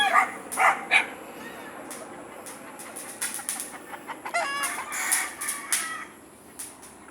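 Gamecock roosters cluck and crow close by, with dogs barking in the background, a scatter of sharp calls and bursts over a quiet outdoor backdrop.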